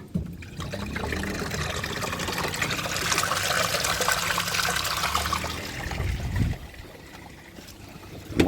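A koi pond pump switched on sends water gushing and trickling into a pond filter chamber, a steady close rush of flowing liquid that swells, then eases slightly near the end.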